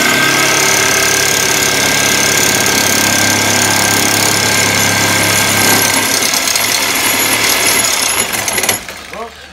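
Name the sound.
loud hammering noise, likely a jackhammer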